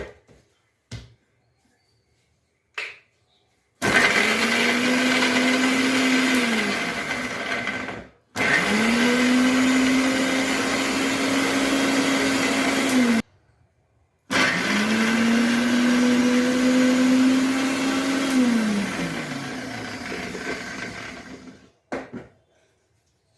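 A mixer grinder blends amla and ginger pieces for a sherbet, running in three loud, steady whirring bursts of several seconds each. Short pauses and small clicks fall between the bursts, and the whine drops as the motor winds down.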